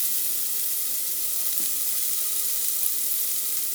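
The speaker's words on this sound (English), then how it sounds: "So I'm going to add the bacon now. I use 2 slices of a good bacon." Garlic-flavored bacon slices sizzling in an Instant Pot, a steady close hiss of frying fat that holds evenly from start to finish with nothing else heard.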